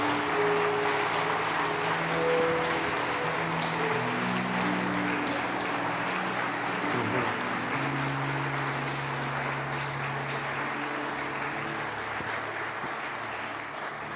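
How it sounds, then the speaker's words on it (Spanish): A church congregation applauds steadily for a long stretch, clapping dense and sustained, with music-like tones faintly underneath and the clapping slowly easing. "dale un fuerte aplauso"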